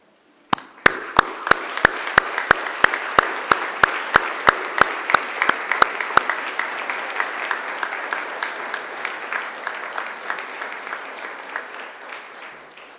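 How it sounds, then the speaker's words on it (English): A graduation ceremony audience gives sustained, loud applause at a Macquarie University graduation, with steady sharp clicks over the clapping early on; the applause gradually thins out toward the end. "please stand and turn to the people behind you and around you and give them a round of applause in thanks"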